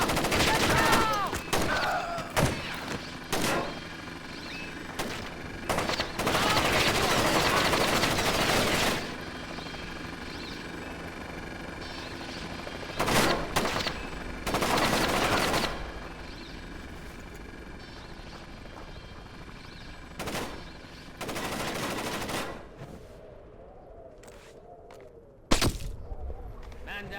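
Gunfire in the video game Splinter Cell: Chaos Theory, with sustained automatic bursts and scattered single shots over a constant background rumble, while voices call out intermittently.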